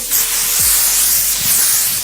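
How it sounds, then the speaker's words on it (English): An aerosol hair spray hisses onto a wig in two short bursts, a bright airy spray with a brief pause between them. "spray the hair with the Sebastian spray"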